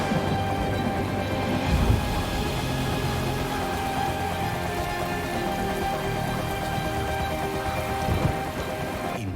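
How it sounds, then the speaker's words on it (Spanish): A heavy downpour drums steadily on a surface in a dense, continuous roar, with low rumbles of thunder swelling briefly twice beneath it; no voices. "El diluvio empieza a azotar la superficie."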